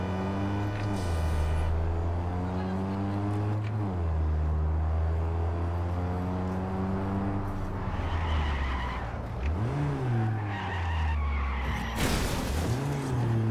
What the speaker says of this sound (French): on manie la nouvelle voiture, on s'entraîne avec, c'est normal.